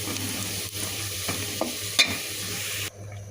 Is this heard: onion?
yes